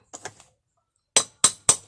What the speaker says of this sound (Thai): เพราะฉะนั้นต้องตอกซ้ายทีขวาทีนะ